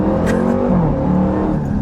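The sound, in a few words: Dodge Durango Hellcat engine accelerating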